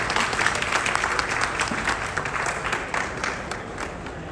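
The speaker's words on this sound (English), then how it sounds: "Let's give Len a round of applause." An audience at the ANA World's Fair of Money opening in Chicago applauds, a dense, even wash of clapping that holds steady, then eases slightly toward the end.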